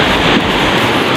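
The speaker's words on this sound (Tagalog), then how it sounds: "So naririnig yun yung hampas ng alon, diba?" Ocean waves crashing on Bolasi Beach in Pangasinan, a loud, close, unbroken roar of surf with wind buffeting the microphone.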